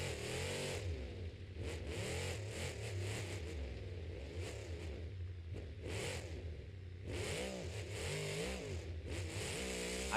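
Monster truck engines roar and rev in bursts at a Monster Jam arena skills challenge, loud, rising and falling surges with clattering between them and no speech.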